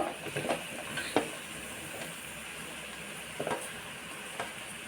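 Green chili, carrot and potato stirred in a pan, soft sizzling under intermittent scrapes and clinks of the spoon against the pan, fairly quiet with no voices.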